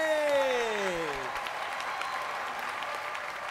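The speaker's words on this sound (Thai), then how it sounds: "ขอเสียงปรบมือเป็นกำลังใจอีกครั้งให้กับ3ท่านที่ผ่านเข้าสู่รอบไฟนอล" Studio audience on a Thai television singing competition applauding steadily, a dense wash of clapping after a host's voice fades out at the start.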